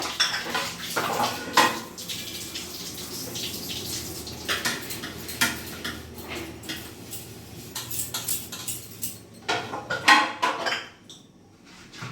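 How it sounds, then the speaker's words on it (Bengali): Dishes and cutlery being washed under a running tap in a home kitchen, with clinks of pots and utensils against a steady water flow, close and alone. "এবার কিছু আমার ধোয়া আছে আমি ওগুলো ধুয়ে নিই"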